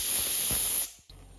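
A pressure cooker cooking elephant foot yam lets off a loud, close hiss of escaping steam that cuts off abruptly, followed by a quieter moment.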